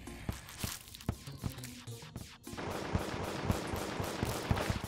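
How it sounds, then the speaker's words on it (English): Rapid gunfire from the Terraria video game as enemies are shot down during a Blood Moon, a steady run of sharp repeated shots under a dense wash of game effects, getting busier and louder halfway through. "Now I'm just shooting them for fun."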